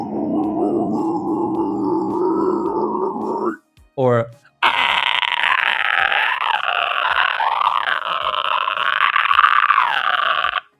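Extreme harsh scream vocals, the words barely intelligible, delivered loud and close: a low guttural roar, a brief break, then a higher raspy shriek sustained to the end.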